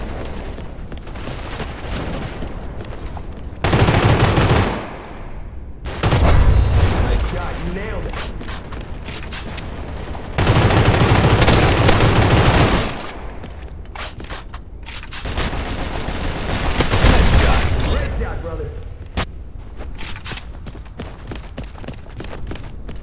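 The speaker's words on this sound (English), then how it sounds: "Throwing grenade!" Gunfire and grenade blasts in the Crossfire X video game: loud bursts of rapid automatic fire and heavy booms come in separate waves, broken by brief quieter gaps with faint voices underneath.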